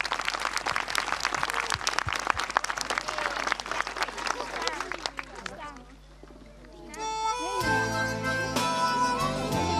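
An outdoor village audience in Lippenhuizen claps and cheers for a performer, a loud dense burst of applause that fades out, followed by music starting.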